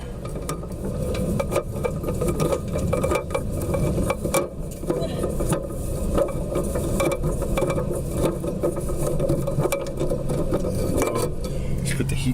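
Rapid metallic ratchet clicks come in close, quick bursts as a heat shield is fastened back onto a hot water tank heater, with some knocking and handling noise between strokes.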